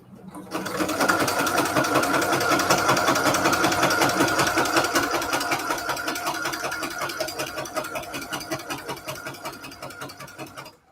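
A sewing machine back-stitches through the pages of a handmade sunflower junk journal, its needle hammering in a fast, steady rhythm for about ten seconds before slowing and stopping.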